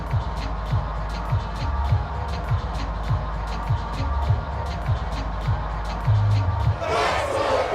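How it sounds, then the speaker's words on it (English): Steady crowd noise from the sidelines of a Madden NFL 22 football game, LA Rams against Chicago Bears, with rhythmic clapping and a low roar throughout, swelling into a louder burst of cheering near the end. "That's why you hear that clapping on the sidelines, right?"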